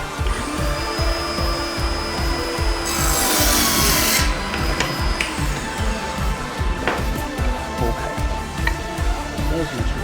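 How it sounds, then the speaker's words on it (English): A power tool cuts angles into the wooden butt end of a replica shotgun stock, a loud rasping, rubbing whine with a brief harsher burst in the middle, running continuously for the whole stretch. "I cut the rest of the angles I need to make up the butt end of the gun"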